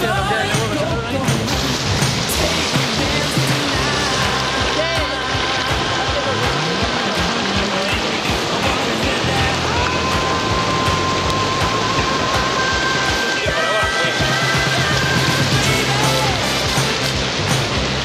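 Rushing storm water surges in at a fishing spot during heavy rain, a dense, steady broadband roar that stays loud throughout, with voices talking faintly beneath it.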